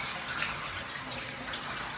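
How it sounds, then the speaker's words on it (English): Shower water running steadily, a soft continuous hiss of spray with no voices, fairly faint and unchanging over two seconds. "Gotta love the shower"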